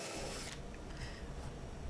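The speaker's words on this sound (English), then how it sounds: "I can drill my holes through my tenons of my panels" Power drill boring holes through the tenons of walnut panels for a coffee table, a steady, loud whirring grind that holds without a break.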